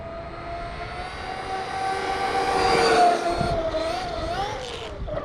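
Traxxas Maxx 4S V2 RC car with a Hobbywing Max8 motor running on 4S and 5S, giving half-throttle blips: a close, loud whining electric motor tone that rises and wavers, then dips and climbs again near the end.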